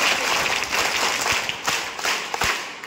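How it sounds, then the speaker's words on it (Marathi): Students clapping and applauding at a government secondary ashram school, a dense, steady patter of many hands with a few sharper claps standing out near the end. "टाळ्या वाजवा यांच्यासाठी"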